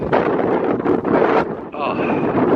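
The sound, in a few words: wind blowing into the microphone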